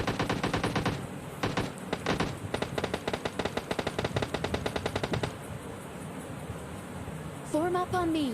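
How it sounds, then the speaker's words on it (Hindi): Rapid bursts of automatic gunfire from a PUBG Mobile Lite squad match, dense volleys of shots for the first five seconds, then sparser fire as game effects take over near the end. "सामने से गन साउंड भी आ रहे थे"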